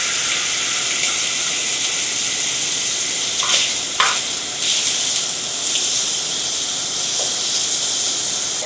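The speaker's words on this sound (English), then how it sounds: "So we have thrown in some butter, a touch of olive oil so that the butter doesn't burn." Lobster pieces fry in butter with a touch of olive oil, giving a steady, close sizzle and hiss throughout, broken by a few brief clinks and stirring scrapes.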